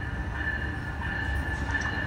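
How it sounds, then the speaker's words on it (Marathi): A passenger train arrives at a station after dark in winter, a continuous rumble of rolling cars with a steady high wheel whine, close and unbroken. "आली आपली आगगाडी."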